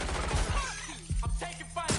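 A gunfight in Watch Dogs Legion brings sharp gunshots in clusters, with several cracks close together, mixed with brief game voices.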